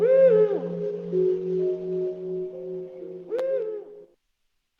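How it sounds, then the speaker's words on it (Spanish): Eurasian eagle-owl hooting alone, a deep resonant call with a few long, low, drawn-out notes followed by a short broken phrase, then silence. "Y el sonido del búho real, que es para mí el más imponente de entre todas las aves ibéricas."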